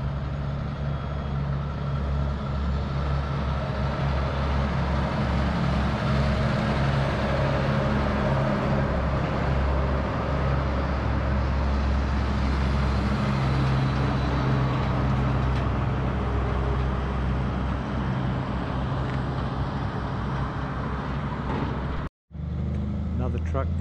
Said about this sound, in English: And here come the trucks.